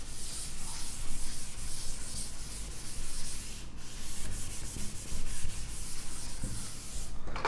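A board eraser rubs out chalk writing in a physics lecture, steady back-and-forth scrubbing strokes close by with brief pauses and no speech.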